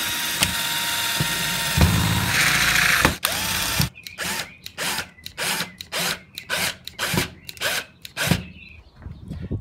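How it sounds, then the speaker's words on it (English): A power drill bores a hole through a wooden door piece. A long continuous whine and grind comes first, then a run of short rhythmic bursts as the bit is pulsed through the wood, loud and close. "So I'm going to have to drill one hole all the way through."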